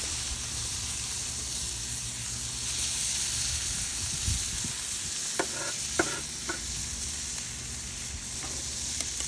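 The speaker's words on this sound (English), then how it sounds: "now I'm going to take all the veggies and put it all on there. and let them saute." Vegetables for fried rice sauté in hot grease with a steady sizzle and hiss, and a few sharp utensil clicks and scrapes come in near the end.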